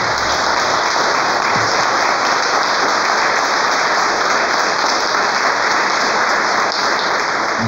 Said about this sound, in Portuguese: Então dê para Jesus uma salva de palmas.